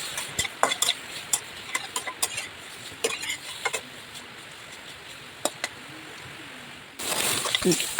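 Pork belly stir-frying in a pan over moderate heat as its fat renders: soft steady sizzling punctuated by sharp clicks and scrapes of a utensil against the pan, with a louder burst of frying near the end.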